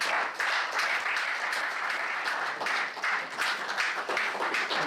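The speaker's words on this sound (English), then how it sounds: "Ladies and gentlemen, please a round of applause for the one and only Dr. Stephen Akintayo" Audience at a book launch dinner applauding as the host introduces the guest of honor, a dense, steady wash of many hands clapping that carries on loudly through the whole stretch with no voices rising above it.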